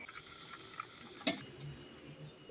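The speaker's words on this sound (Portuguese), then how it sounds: "Vamos encher o copinho d'água, né?" Water pours into a small cup, a steady trickling fill with a brief sharp clink partway through, close and fairly quiet.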